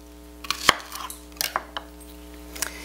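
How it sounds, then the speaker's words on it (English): A kitchen knife cuts onions in half on a board for a slow-cooked Sunday pot roast, giving a few separate chopping knocks with one sharp, close thunk standing out among lighter taps, with no talking. "I'll cut the onions in half and lay those on top."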